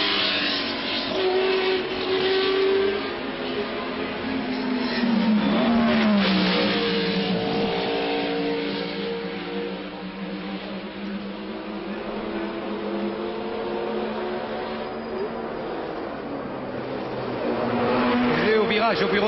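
Racing cars at the 1963 Monaco Grand Prix sweep past on the street circuit near the tobacconist corner, engines droning and revving in overlapping waves over a constant crowd-and-commentary wash, with a French commentator talking throughout.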